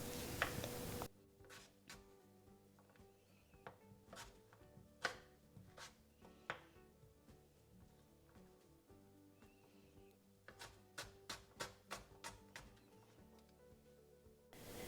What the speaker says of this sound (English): all I'm going to do is chop it up into small pieces